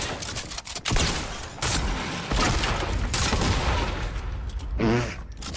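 Video game gunfire aimed at a wall, with loud, dense bursts of shots and booms repeating through the stretch, with a voice briefly cutting in near the end.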